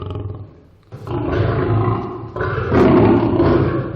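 A lion roars in its enclosure at a zoo, two loud, deep, rough roars close to the microphone, the second louder and longer, with no talk.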